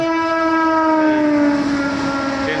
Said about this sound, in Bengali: ট্রেন যাচ্ছে, ট্রেনের আওয়াজ নিশ্চয়ই পাচ্ছেন